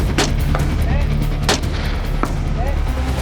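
Rifle shots crack out outdoors at a shooting range: about three loud, sharp reports spaced a second or so apart, each with a short echoing tail over steady background noise.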